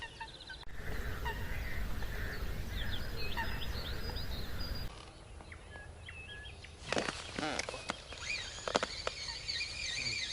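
Ducks at a fishing pond in April, with scattered calls and chirps over outdoor ambience, plus a burst of louder quacking and fluttering activity near the end.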